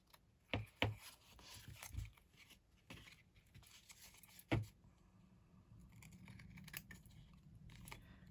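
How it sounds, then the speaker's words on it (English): Scissors snipping tissue paper along the edge of a card during papercraft, a few sharp close clicks and soft crinkling rustles spread unevenly over a quiet background, no speech. "I've got my scissors right on the edge of the card."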